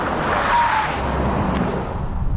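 A 2026 Chery Tiggo 9 Super Hybrid with all-wheel drive accelerates at full power, giving a steady, loud drivetrain and road roar that holds without a break for the whole stretch.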